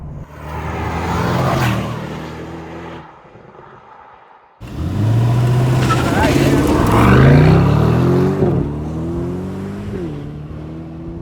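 An Aston Martin DB12 luxury supercar engine revving loud and close, with rising exhaust roar through gear changes and crackling pops as the throttle lifts, while someone talks over it.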